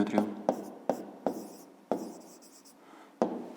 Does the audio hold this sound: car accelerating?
no